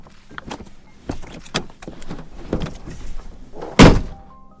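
A truck door opens amid soft rustling and shuffling as a man climbs out onto a foggy roadside in a horror audio story, ending in one loud, close thunk near the end.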